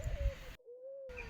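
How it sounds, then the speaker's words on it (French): Turtle doves cooing in a village, a soft steady coo heard alone through a brief quiet stretch, with louder outdoor background noise before and after. "Où qu'on aille ici, on entend des tourterelles."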